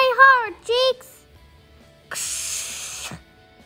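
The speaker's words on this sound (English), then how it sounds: "It's gonna spray everywhere." A hose sprays water hard onto a car during a wash, a loud hissing burst of about a second. It comes right after a child's high-pitched voice and stops abruptly.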